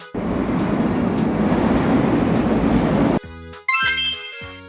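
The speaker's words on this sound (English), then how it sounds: "A subway train travels deep in tunnels under the city." Subway train rushing through an underground city tunnel, a loud dense rumbling roar for about three seconds, then sudden drops to quieter rattling with bright metallic squeals and clanks near the end.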